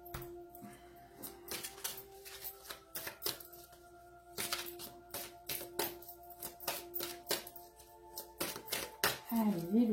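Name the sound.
playing cards being dealt into piles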